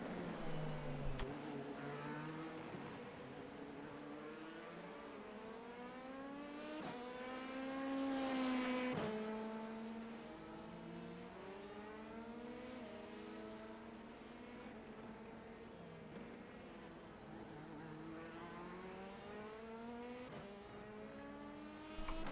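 An LMP2 prototype race car in a racing video game, its engine note rising and falling through gear changes as it laps the circuit, loud and steady throughout with a brief surge of revs near the middle.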